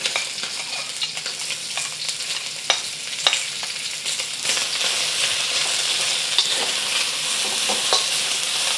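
Onions and the white parts of green onion sizzle steadily in vegetable oil in a wok, a dense, close crackle with occasional sharper pops and stirring scrapes, with no voices.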